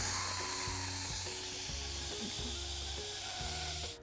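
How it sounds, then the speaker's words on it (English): An Instant Pot set to quick release vents steam in a loud, continuous high hiss that holds steady throughout and cuts off at the end, with soft background music underneath. "we're gonna turn it to quick release, which is turning it to venting so all the steam will come out."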